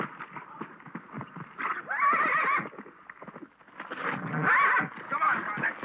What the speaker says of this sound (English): Oh, Laramie never heard a horse in his life.